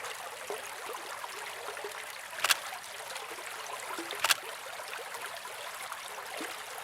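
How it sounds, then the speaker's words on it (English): A small creek swollen by overnight rain flows with a steady, soft rushing hiss, broken by two brief sharp clicks, with no talk. "The rain that's been falling since the previous night has turned this little creek into a watery"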